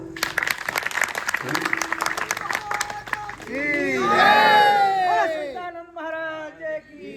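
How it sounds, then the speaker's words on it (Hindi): Audience applause at a Hindu devotional satsang discourse in Piyan village: quick rhythmic clapping swells into loud, sustained applause with crowd cheers and raised voices, then fades. "ताली बजा दो।"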